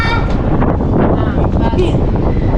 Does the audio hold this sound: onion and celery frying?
no